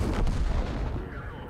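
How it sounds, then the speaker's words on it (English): A tank cannon fires in the World of Tanks video game, a single loud, close boom that fades into a rumbling decay with no talking over it. "And he shot, but he bounced."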